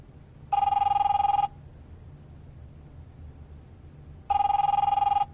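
Two electronic telephone rings from the video game The Wolf Among Us, each a loud buzzing trill about one second long, separated by a few seconds of low hum, heard alone.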